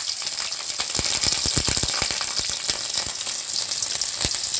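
Slit green chillies and five-spice seeds frying in hot oil in a wok make a close, steady sizzle dotted with rapid sharp pops and spits, with no talk.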